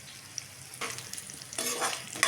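Green chilies, shallots and curry leaves frying in hot oil for a tempering, stirred in the pan: bursts of sizzling rise and fall in short waves, close and fairly quiet, with no voices.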